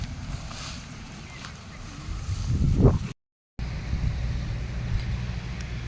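Wind gusts across a flooded village area in a low, rough rumble that swells briefly, cuts out for a moment, then returns as a steady buffeting.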